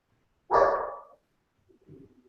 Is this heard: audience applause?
no